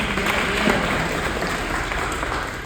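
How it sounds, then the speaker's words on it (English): Audience in a room at a poetry performance giving steady clapping and snapping, a dense continuous patter with no clear pauses, holding for a few seconds. "Can I get a little claps?"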